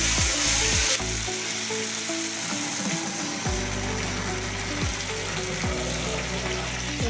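Onion and tomato frying in a pan with a little sugar added, giving a steady close sizzle throughout with a few scrapes and stirring knocks.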